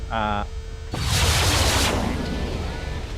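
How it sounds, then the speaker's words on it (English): Explosions and weapon fire in MechWarrior 3 erupt as a loud, sustained roaring blast of rumbling noise that slowly fades, right after a brief spoken voice. "excuse all the explosions"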